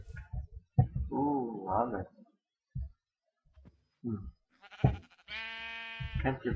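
Sheep in a video game bleat, a wavering cry followed later by a longer, higher bleat, mixed with short scattered game noises and brief quiet gaps.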